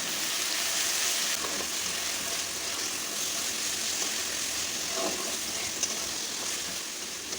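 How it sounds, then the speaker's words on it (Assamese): Ginger garlic paste frying in a pan for a potato, pea and paneer curry, with a steady close sizzle and faint stirring scrapes throughout. "আদা নহৰুৰ যিটো কেঁচা গোন্ধ এটা ওলায়, সেই গোন্ধটো নোযোৱালৈকে মই অলপ সময় ভাজি থাকিম"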